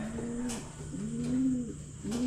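Pigeons in a loft at night give soft, repeated cooing calls, rising and falling notes close by over a low steady background hum.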